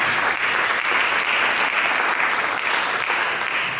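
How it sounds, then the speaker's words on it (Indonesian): Worshippers in a church service clap for Jesus, producing a thick, continuous roar of applause from a large crowd that holds steady and loud for several seconds without speech. "Berikan tepuk tangan untuk Yesus."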